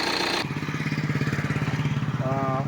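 A 2021 Tata Nexon XZ+ engine idles close by with an even, rhythmic chugging pulse; a brief wavering whine rises near the end.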